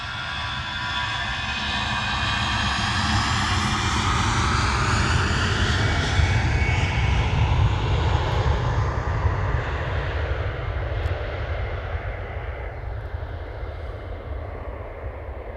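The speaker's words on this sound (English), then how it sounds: "First departure is an EasyJet, and it's off to Belfast." An easyJet airliner departs Manchester Airport at night, bound for Belfast, its loud jet roar sustained throughout with a slowly shifting, sweeping tone as the aircraft passes and begins to recede.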